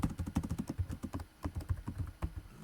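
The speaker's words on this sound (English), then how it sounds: "Anytime I push the letter N on the keyboard" Computer keyboard being typed on at a quick, uneven rhythm, close and moderately soft, a string of separate clicking keystrokes with a brief pause midway and no talking.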